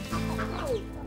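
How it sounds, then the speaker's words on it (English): A mother hen clucks to her chick, a single short, close, low cluck lasting about a second against quiet background. "she'll cluck to the baby"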